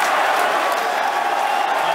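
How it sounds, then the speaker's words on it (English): Spectators cheer and clap as a SpaceX Falcon Heavy booster lands during a test flight, a broad continuous roar of crowd noise heard from a distance with no clear voices on top. "if you could hear all that cheering"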